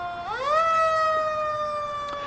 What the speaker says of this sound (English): She's never really noticed just how loud the horns are, so loud she covers her ears with her hands.